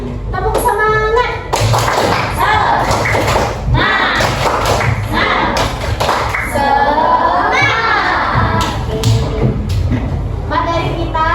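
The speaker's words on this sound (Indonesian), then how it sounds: "Oke, tepuk semangat dulu deh." Fifth-grade Indonesian schoolchildren perform a rhythmic spirit clap, tepuk semangat, in a classroom, with loud patterned claps and thumps in bursts between lively chanting voices, close and energetic throughout.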